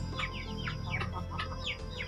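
Silkie chickens on a free-range farm give a quick series of soft, close clucks and chirps over a low background hum.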